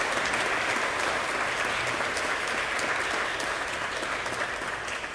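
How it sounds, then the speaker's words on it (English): Sustained applause from an audience at a retirement celebration, a dense steady wash of clapping filling the whole stretch at an even level. "we all should give Mark a round of applause for his years of service"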